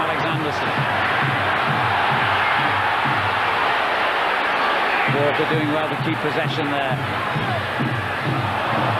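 A home crowd at a 1998 football match between Sheffield Wednesday and Nottingham Forest fills the stadium with a steady, broad roar, while a commentator talks continuously over it.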